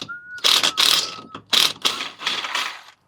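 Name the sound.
impact gun removing a bolt on a McLaren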